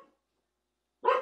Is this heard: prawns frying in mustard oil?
no